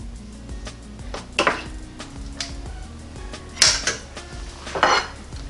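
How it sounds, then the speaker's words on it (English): Grilled crab cakes are plated from a NuWave Primo grill oven, with a few sharp clinks and scrapes of utensils on dishes at irregular moments over quiet kitchen background. "I'm just plating these just to get them off this direct heat."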